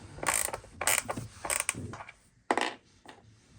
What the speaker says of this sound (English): Using a 1/2 inch wrench here.